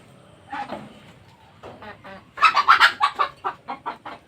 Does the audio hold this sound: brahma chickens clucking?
yes